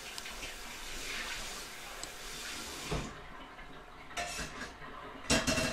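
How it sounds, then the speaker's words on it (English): Dishes are washed at a kitchen sink in the background, with running water and a few clinks of pots and cutlery, steady and somewhat distant. "My mom's doing the dishes."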